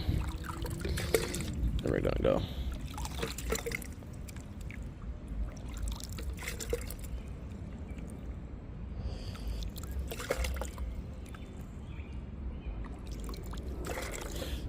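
Water pours steadily into an ecosystem jar, a continuous trickling wash running beneath a person talking nearby.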